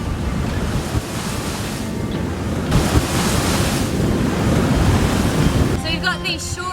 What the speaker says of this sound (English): So you've got these short period wind swell waves.